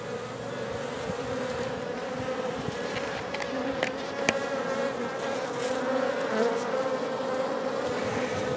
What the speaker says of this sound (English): She's packed with bees.